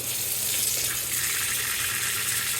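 Steady cold water gushes from a faucet over an old 1940s 48-star American flag being rinsed, a constant close splashing hiss without speech.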